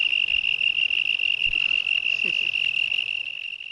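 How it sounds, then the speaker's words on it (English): Crickets chirp in a steady, high, continuous trill that fills the whole stretch at even loudness, with faint low thumps and a brief soft sound underneath. "that is what we hear from his end, is nothing but crickets"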